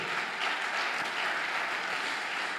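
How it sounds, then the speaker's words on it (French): Sustained applause fills a church as a congregation claps loudly and steadily for the whole stretch, a dense, even roar of many hands with no voices standing out. "On va acclamer encore plus fort."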